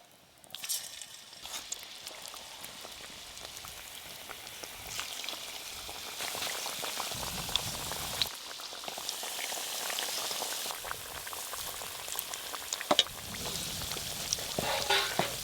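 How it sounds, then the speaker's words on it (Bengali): Potato fritters frying in lightly warm oil, a continuous bubbling sizzle that swells and eases over time, with occasional clinks and crackles nearby and no voices. "হালকা গরম তেলে এগুলো ভাজতে হবে"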